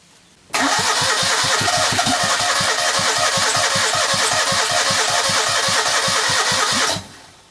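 A Citroën 2CV engine cranks hard on carb cleaner, a loud, fast, even chugging of the starter that runs unbroken for about six seconds before it cuts off without catching.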